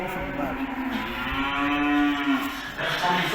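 Salers cattle at a livestock mart in France give a long, loud, close moo that rises and falls, with a second lower call following.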